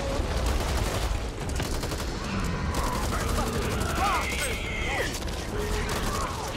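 Sustained automatic gunfire in the co-op shooter Back 4 Blood, a loud rapid rattle of shots running through the whole stretch amid mechanical clatter, with players talking over it.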